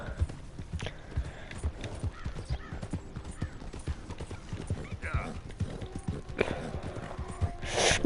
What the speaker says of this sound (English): No está nada mal este caballo